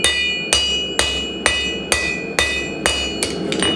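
Rhythmic hammer blows texture the edges of a metal footrest built for a custom bar, about eight sharp ringing metallic strikes at a steady half-second pace, close and loud, the last two coming a little quicker.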